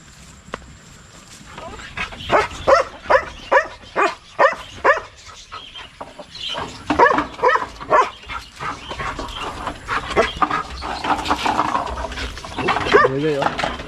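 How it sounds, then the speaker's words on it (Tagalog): Several farm dogs barking excitedly in repeated bursts, near and loud, with whimpers and yips mixed in, while a person talks nearby over them. "Sa tuwing magbigay tayo ng pagkain kay Goy Goy, magsilos yung mga aso natin"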